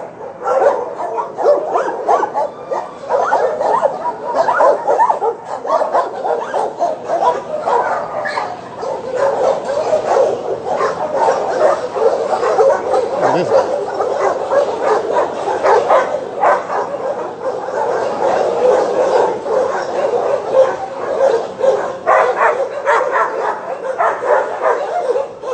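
Many dogs barking at an animal shelter, a dense, continuous chorus of overlapping barks, yips and whimpers, loud and unbroken throughout.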